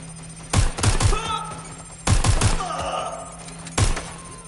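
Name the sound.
gunfire in the video game Watch Dogs: Legion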